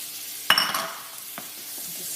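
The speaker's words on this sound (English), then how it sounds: "And just stir that around a bit because I just want to get all those drippings, those lovely brown bits all mixed up here." Mushrooms frying in butter and stirred in a pan, with one sharp clatter of the utensil against the pan, then a soft ongoing sizzle and a faint later scrape.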